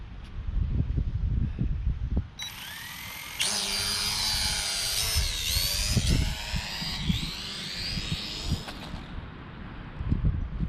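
Eachine E520 drone flying during a trimming attempt, its high whining rotors rising and shifting in pitch for several seconds before cutting out, with rumbling handling noise around it.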